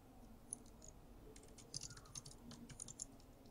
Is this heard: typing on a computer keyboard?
yes